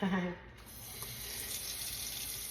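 Tap water runs steadily into a cooking pan of picadillo meat, a continuous hiss and splash close by after a brief bump at the start, with no talk over it.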